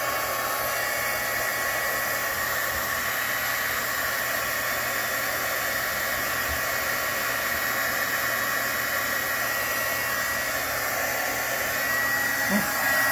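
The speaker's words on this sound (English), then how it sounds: "So you also want to get your heat tool. You'll want to heat it up and make sure it's hot when you go to emboss." A hot-air heat tool for embossing powder runs steadily throughout, giving a constant close whooshing blow with no change in pitch or level and no one talking.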